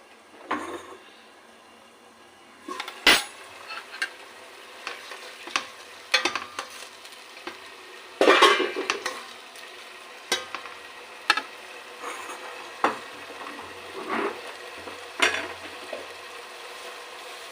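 Spices with turmeric fry in a pan, with a steady sizzle under repeated clanks and scrapes of a spatula against the metal, some strokes sharp and loud, others soft.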